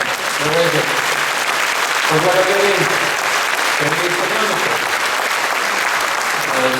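A large crowd at an outdoor celebration for the republic's centenary applauds Sergei Sobyanin, loud dense clapping filling the whole stretch while someone speaks over it in bursts.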